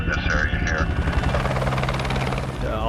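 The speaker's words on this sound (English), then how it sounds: "We take out about 4 or 5 passengers at a time with the helicopter" A helicopter flying on the set of the 2008 film Quantum of Solace, with a steady, loud rotor thrum and whine throughout while people talk over it.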